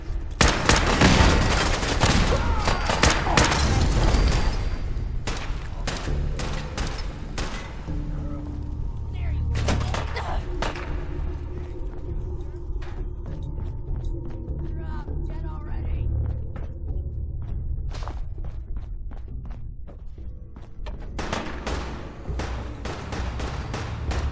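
Rapid bursts of gunfire in the video game Fallout 4, heaviest and densest at the start, then scattered sharp shots through the rest, ending in another cluster of loud shots over a low background rumble.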